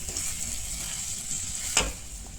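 Ivy gourd frying in a pan with masala and a finely ground spice paste gives a steady, close sizzle with stirring scrapes and one brief sharper clink near the end.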